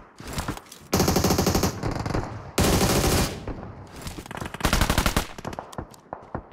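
DBS double-barrel shotgun fire in a video game, shot down from a rooftop: loud, close blasts and bursts of rapid gunfire come in dense volleys with brief gaps between them.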